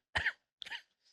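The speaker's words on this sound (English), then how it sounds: "my cough, I guess." A person coughs twice, close to the microphone: a sharp harsh burst followed by a shorter second one, with no talk.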